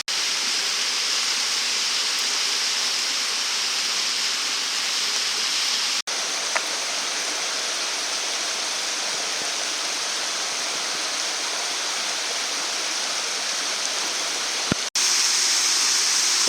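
A waterfall in the Alps roars steadily, a dense, continuous rush of falling water heard close and loud from start to finish.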